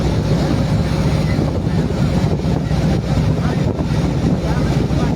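A boat ride on open water at night, with a steady broad rumble of motor and wind buffeting the microphone, continuous and fairly loud throughout, without talk.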